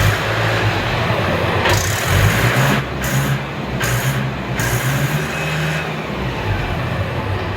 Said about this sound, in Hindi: 575 के जो दीवाने हैं भाई, ट्रैक्टर की आवाज़ ही बहुत पसंद है इसकी।